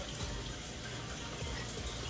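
Running tap water pouring steadily into a pot of rice being washed, a continuous close gushing hiss with no pauses.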